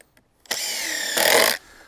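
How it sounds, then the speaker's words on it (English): A power driver sinking a screw into a wooden tree fort yoke bracket, one short loud whirring burst that rises in pitch near the end before cutting off, close by. "I've got my screws right here. I'll start with the bottom two."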